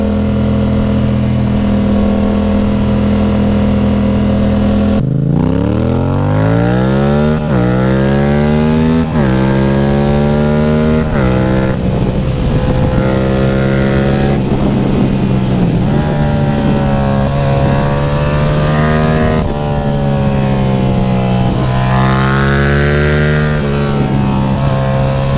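A Yamaha FZ07 motorcycle engine runs loudly and close, revving up repeatedly through rising sweeps and then dropping back, again and again, with no one speaking.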